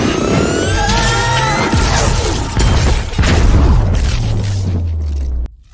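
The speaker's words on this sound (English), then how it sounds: "I'm sure no one noticed that giant blue explosion, right?" A giant blue explosion in the Sonic the Hedgehog film booms loudly with sustained rumbling, sweeping whooshes and mechanical debris, ending in an abrupt cutoff.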